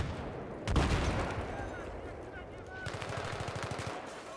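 Gunfire in the Global Conflict video game: a loud shot early, then rapid bursts of automatic fire rattle in quick regular pulses near the end, over a low rumbling background.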